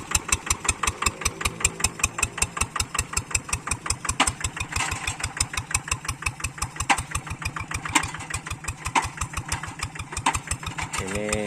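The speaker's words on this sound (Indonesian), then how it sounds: "bisa didengar lur suara mesinnya aja" A hand tractor tiller's engine runs steadily and close up while working hard, stiff, thick-grassed ground, giving a dense, rapid chugging pulse that stays loud and even throughout with no talk over it.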